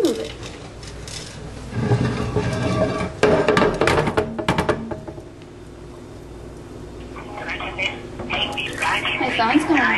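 A telephone ringing in a kitchen while a cake is being baked, heard among clattering dishes and utensils, with people talking over it.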